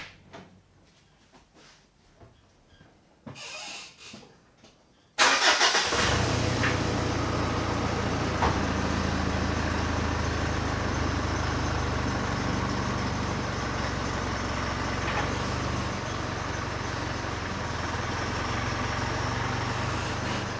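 A car engine cranks and catches after a few quiet clunks, then settles into a loud, steady idle close to the microphone that runs on unchanged to the end.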